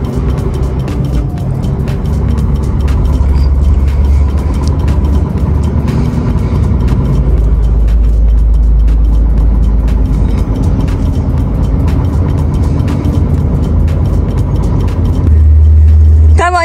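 A new truck drives along with its engine running steadily, a loud continuous low rumble close by throughout, with a brief shift in tone near the end; no talk is heard over it.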